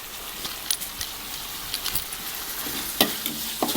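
Beans and pork stir-frying in a pan, a steady close sizzle broken by scraping and clinking of the stirring utensil against the metal at irregular intervals, with no voices.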